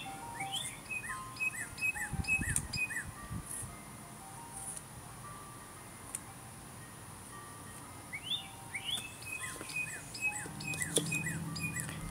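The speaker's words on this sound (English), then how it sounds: "We've got some of the coolest birds out here singing to each other right now." Several birds sing outdoors in spring, trading repeated bright chirping phrases back and forth, moderately close, over a soft background hum with a brief low rumble early on.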